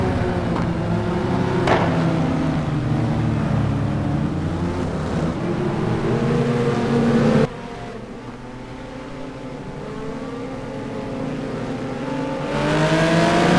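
Race cars in the simGT racing game at Spa surge away at the race start, engines droning and revving in a dense, continuous roar that drops briefly before building again.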